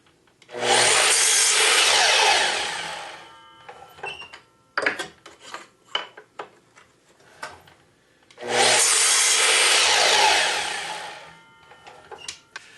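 Two long, loud saw cuts through wooden pieces set against a stop block, each running a couple of seconds, with scattered knocks and handling clatter between them.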